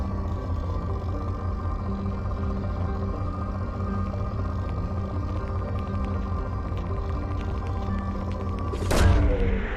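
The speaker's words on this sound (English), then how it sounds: "Launching probe." A steady low mechanical hum from a spacecraft in Mass Effect 2, ending near the close in a single sudden whooshing boom as a probe launches.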